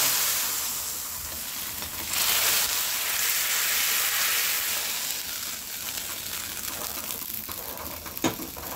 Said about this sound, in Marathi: आणि ही मी वरतून फोडणी टाकणार